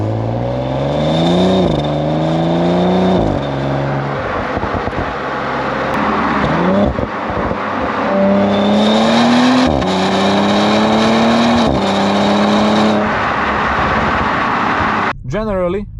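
A 2019-era Audi S4 B9 with the 3.0T engine and stock exhaust revving repeatedly, rising and falling engine pitch in several pulls, loud and close with a brief clunk at the end.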